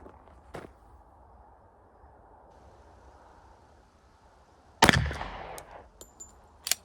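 A budget 1911 pistol in .45 ACP firing semi-wadcutter ammunition outdoors gives one sharp, loud close shot after a quiet stretch, followed by its fading echo and a couple of clanks.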